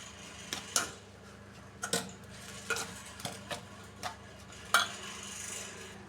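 A ladle stirs a green gram laddu mixture, giving about eight sparse scrapes and knocks against the pan over a steady low background hum.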